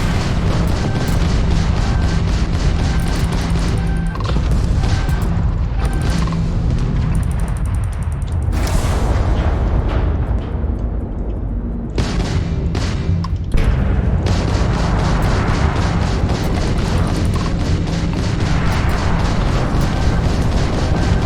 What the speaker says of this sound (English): Warning, warning, incoming fire.